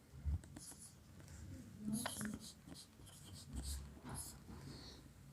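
Chalk or marker scratches across a board in short strokes while a teacher talks through a tenth-grade height-and-distance maths problem, the writing sounds faint and mixed under the speaking voice.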